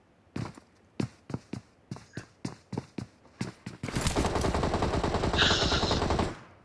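PUBG gunfire on the Miramar desert map: about a dozen evenly spaced single shots crack close by, then a sustained loud burst of rapid automatic fire takes over for a couple of seconds before cutting off, with no talking.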